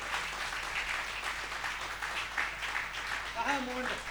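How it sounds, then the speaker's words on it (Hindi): Audience applause at a Hindi poetry stage event and book launch, a continuous moderate clapping wash with voices talking over it. "तालियां बजा दो एक बार जोरदार जरा।"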